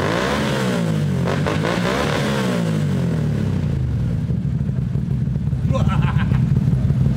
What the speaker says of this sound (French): Ma passion, à moi, c'est le quad. Et ça, c'est le Mud Runner.